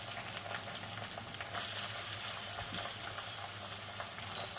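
Onions and green chillies frying in oil with chana dal and urad dal for poha upma, a dense continuous sizzle and crackle up close, with no talking.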